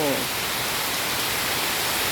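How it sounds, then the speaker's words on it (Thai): Heavy rain pours down in a steady, dense hiss that fills the whole moment without a break, while a voice is briefly heard at the very start. "เสียงจริง นะเสียงฝนตกนี่ค่ะ"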